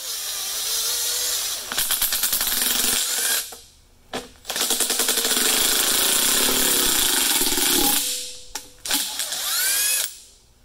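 Power tool, likely an impact driver or drill, driving a bolt down to push a stuck intake manifold off a small-block Chevy engine: loud buzzing runs in bursts of a few seconds with short pauses, close, no voices.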